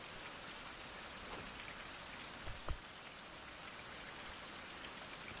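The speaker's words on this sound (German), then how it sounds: "Warum regnet es eigentlich?" Video game rain hisses evenly throughout, a dense patter of drops with a couple of faint low thumps near the middle.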